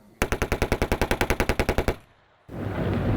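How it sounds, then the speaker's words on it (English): A machine gun fires a rapid, evenly spaced burst of about eighteen loud, close shots lasting under two seconds. A brief pause follows, then a broad, rumbling noise comes in. "they watched what a machine gun would do"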